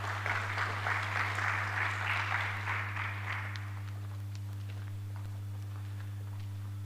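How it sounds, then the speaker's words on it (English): Applause from the audience at a university press book launch, a few seconds of clapping that fades out, leaving a steady low electrical hum from the sound system underneath. "Another round of applause to all our authors"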